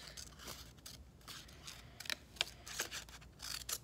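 Fabric being cut out with scissors for a unicorn pencil pouch, a string of quiet, close snipping and crunching strokes in an uneven rhythm over a low room hum.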